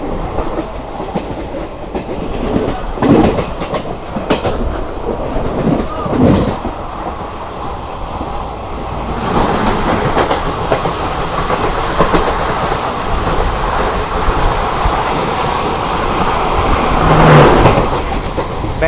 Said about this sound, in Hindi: Bengaluru cantt Agartala express special.